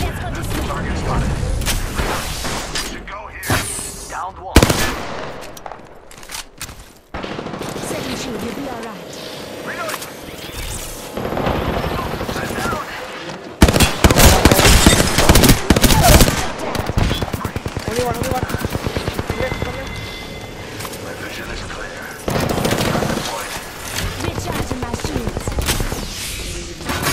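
Rapid automatic gunfire and shots in the battle game Apex Legends, loud bursts recurring across the clip with explosions and mechanical clatter, mixed with in-game voice callouts.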